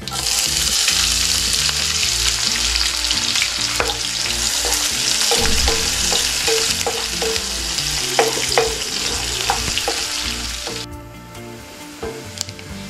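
Onion and green chillies with cumin frying in a pan, a loud dense sizzle with sharp spatula taps and scrapes from stirring, the frying dropping off abruptly near the end.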